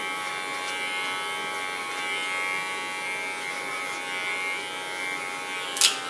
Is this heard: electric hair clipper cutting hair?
yes